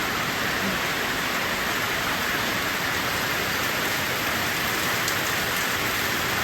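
Steady, dense rain falling continuously, a broadband hiss of drops on surfaces with no voices, loud and close throughout.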